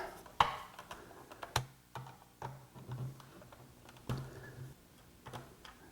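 Four screws being backed out of the HVAC control unit on a 2009 Honda Civic, a string of close, quiet clicks and scraping ticks from the screwdriver, irregular and soft against a hushed room.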